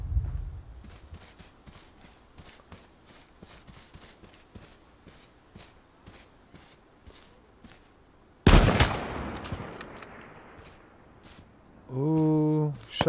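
Rapid clicking gunfire and footsteps from the battle royale game H1Z1 give way to a loud, sudden burst of shots, followed by a brief voice near the end.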